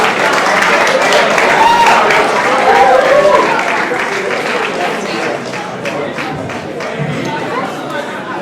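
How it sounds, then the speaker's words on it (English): Steady applause from a crowd greets the runner-up team at the RP Baffour 2024 competition, continuous clapping mixed with chatter and a voice talking over it, fairly loud and even throughout. "Please clap for them. Please clap for them."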